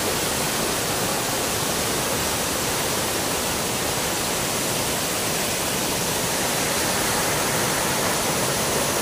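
Bantakay Falls in Sta. Catalina pours in a dense, unbroken roar of falling water, loud and close, steady for the whole stretch with no voices over it.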